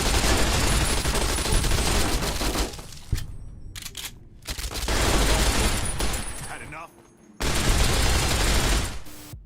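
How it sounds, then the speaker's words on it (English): An FN Minimi machine gun in Fallout: New Vegas fires long, loud bursts with short gaps and a brief pause, while a voice talks over part of the firing. "Of all of the machine guns to survive into the end of the world, I'm not sure that the FN Minimi will be one of them."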